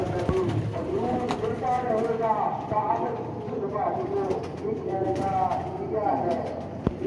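Pigeons coo repeatedly in soft, rounded bursts close by, rising and falling in an uneven rhythm over a steady background murmur, with a sharp click near the end.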